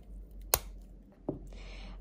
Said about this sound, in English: So what you can do is just cut first your cucumber with your hands,